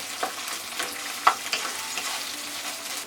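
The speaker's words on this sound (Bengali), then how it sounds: "তারপর এটা আমি একটু হালকা ভেজে নেব" Close, steady sizzle of onions frying in a pan, with a few sharp scrapes from stirring.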